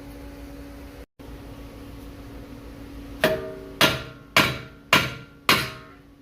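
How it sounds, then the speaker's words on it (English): Five sharp metallic hammer blows on a brake rotor, knocking it off the rear hub of a Dodge Journey, ring out in a steady rhythm after a quiet stretch of background hum, close and loud. "you want to knock around here with your hammer and get the rotor off"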